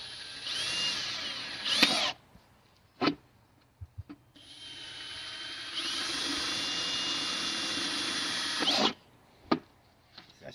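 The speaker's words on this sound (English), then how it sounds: "if you do end up drilling with a larger bit" A high-pitched power drill whines in two long bursts while drilling holes in a plastic plant pot, with brief shorter spins and clicks between them, close and loud with no talking.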